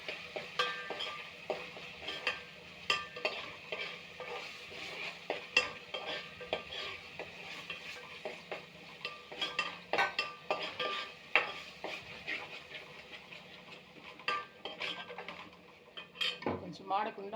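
A spoon scrapes and clinks against a cooking pot as curry leaves and greens are stirred, with soft sizzling underneath; irregular close metallic taps and scrapes continue throughout at a moderate level.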